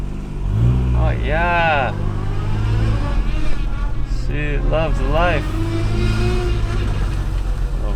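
A Honda Integra DC2 engine running steadily while driving, a loud continuous drone through the cabin, with someone talking excitedly over it.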